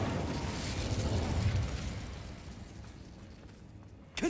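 Incendio fire spell cast in the video game Hogwarts Legacy, a loud whooshing fiery burst that swells and then fades, followed by a sharp new blast near the end, with no voices.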